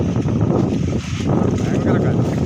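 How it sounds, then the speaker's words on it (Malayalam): Strong wind blows outdoors near Kumarakom in Kerala, buffeting the microphone with a loud, continuous rushing roar that dips briefly midway. "ഭയങ്കര കാറ്റ്"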